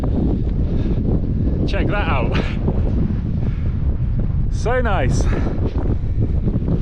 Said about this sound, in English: extremely windy, bitterly cold wind